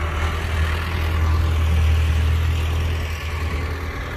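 A tractor digger works near a graffiti tunnel, its engine giving a loud, steady low rumble that holds for several seconds with no voices over it.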